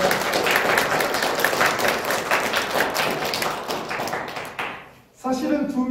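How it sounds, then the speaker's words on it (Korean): A church congregation at a New Year thanksgiving service applauds in a dense, sustained burst of clapping that fades out, followed by a voice speaking. "우리 세 분 일어나시면 박수 치도록 하겠습니다."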